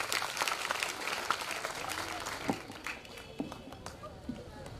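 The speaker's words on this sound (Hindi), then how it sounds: "आइए जोरदार ताली दीजिए" Steady applause from a crowd at a school event fills the clip, a dense continuous patter of many hands clapping with a few louder claps standing out.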